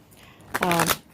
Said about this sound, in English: a couple more shuffles and we will get started